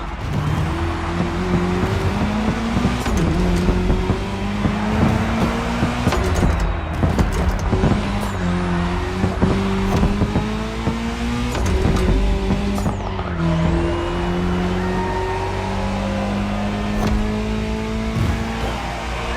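Rally car engines, including an Audi S1 EKS RX Quattro and a Ford Puma Hybrid Rally 1, roar and rev continuously in The Crew Motorfest racing game, with pitch rising and falling through gear changes and occasional tire squeal.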